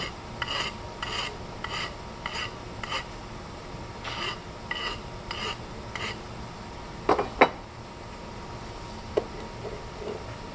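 A metal file rasps a bevel onto the foot of a metal organ pipe, a series of short repeated strokes with a couple of sharper scraping clicks, close and fairly quiet.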